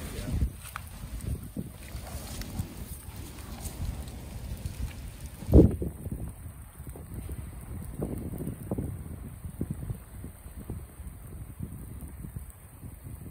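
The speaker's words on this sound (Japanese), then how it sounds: "今日はね、ずーっと雨降ってる。 昨日の夜からずっと雨降ってる。" Steady rain pours onto a flooded road where water covers the street and bus stop, a dense continuous hiss with scattered splashes and one sharp knock partway through.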